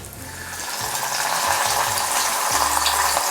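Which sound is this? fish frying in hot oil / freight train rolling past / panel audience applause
fish frying in hot oil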